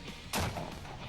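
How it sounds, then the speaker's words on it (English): The Carbineers' cannon fires to start a stage of the Dusi Canoe Marathon, a single sharp, loud outdoor boom that fades into a brief rumbling tail. "Once the Carbineers cannon fired"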